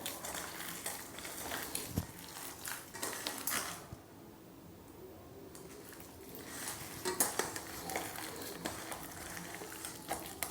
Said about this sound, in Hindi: और मसालों को आलू में मिला देंगे।